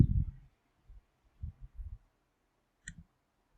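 A computer mouse clicking in SPSS statistics software, a few soft, close clicks spaced across a few seconds in a quiet room.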